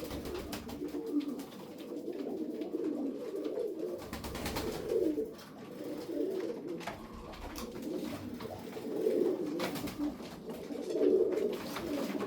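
Soft, low cooing of several pigeons, repeating in gentle overlapping phrases against a steady background murmur.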